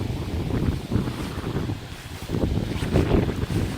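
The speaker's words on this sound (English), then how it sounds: "there's just damn wind" Wind buffets a microphone outdoors beside a Taylor 2708 Jumbo Junior rain gauge, a steady low rumble that surges in gusts across the whole stretch with no one speaking.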